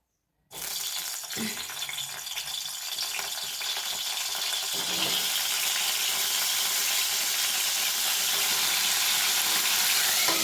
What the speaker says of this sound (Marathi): आता ह्याच तापलेल्या कढईमध्ये आपण चिरलेले वांगे टाकून थोडंसं तेलामध्ये परतून घेणार आहे.